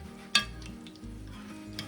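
Chicken sears in hot oil in a pan, giving a steady soft sizzle with a brief sharp clink of a utensil against the pan near the start.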